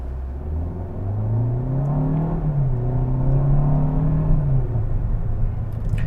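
A 2021 Kia K5 sedan with a 1.6 liter engine accelerates with a steady, rising engine drone and low rumble heard from inside the cabin, building smoothly over several seconds with no talking.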